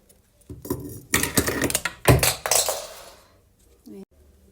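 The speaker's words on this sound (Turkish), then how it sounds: "Şimdi ipimizi uzun bir şekilde keselim." Scissors snip through acrylic crochet yarn while a tulip amigurumi is being made, giving a cluster of close, sharp metallic clicks and cuts in the middle, then a brief quiet tail.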